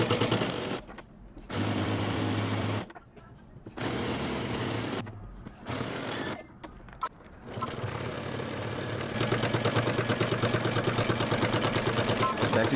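A sewing machine stitches a fabric beanie in several steady motor bursts with short pauses between them, then runs longer and more continuously toward the end. Close and clear, with no talking over it.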